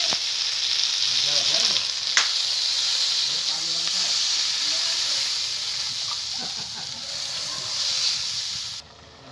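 Water hits fried potatoes in a hot pan for a home-style breakfast curry, raising a loud, steady broadband sizzle and hiss that fills the whole stretch, with faint stirring and background sounds underneath before it cuts off abruptly near the end.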